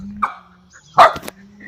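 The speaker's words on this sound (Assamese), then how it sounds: "কেলে ভুকিছ" A dog barks twice, a short yip and then a louder sharp bark, close by, with a low steady hum underneath.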